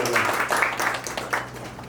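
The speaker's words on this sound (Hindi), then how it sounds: "तालियां हो जाए एक बार।" Audience clapping at a Pragati 2025 award ceremony after a cheque prize is presented, a steady patter of many hands lasting under two seconds with no voices over it.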